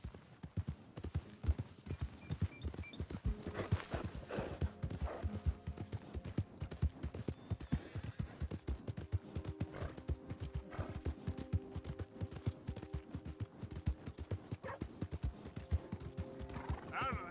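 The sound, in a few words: horse galloping and neighing in video game Red Dead Redemption 2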